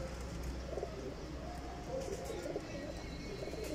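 Soft pigeon coos repeat at a steady pace over a constant low hum, fairly quiet with no talking.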